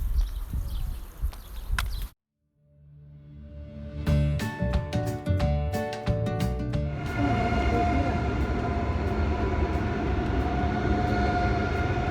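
A high-speed train rolls into a station in Konya, Turkey, after a brief silence, rumbling and clattering with a rising, steady whine that holds as it draws near and settles.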